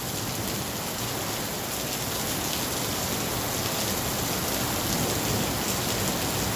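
Heavy rain pours down during a thunderstorm, a dense, loud, unbroken hiss of drops hitting surfaces that holds steady throughout with no voices.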